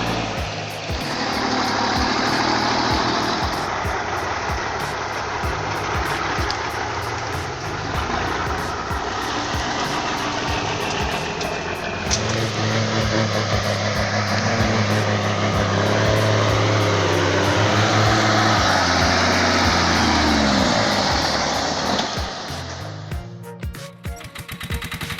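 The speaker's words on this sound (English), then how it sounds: "Hauling along, heavy log seems to be too much for this Goldoni 707cc with its 3-cylinder turbo diesel engine." A Goldoni 707cc tractor with a 3-cylinder turbo diesel engine strains to haul a heavy log along a muddy, slippery forest road. Its engine gives a steady, labored drone throughout, with no talking.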